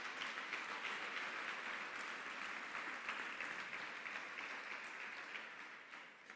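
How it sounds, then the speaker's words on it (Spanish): Congregation at a church service applauding loudly for the Lord, a continuous, even roar of many hands clapping that softens slightly toward the end. "Denle un fuerte aplauso al Señor por eso."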